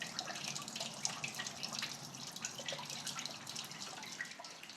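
Coolant drains from a Ford Model T radiator in a faint, steady trickle and splash of liquid that runs without pause and with no talking.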